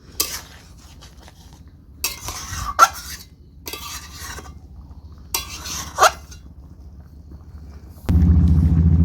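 Rajma masala gets stirred and mixed in a pan, heard as a few separate bursts of scraping and clanking utensil on metal. Quiet gaps fall between them, and a low steady rumble rises near the end.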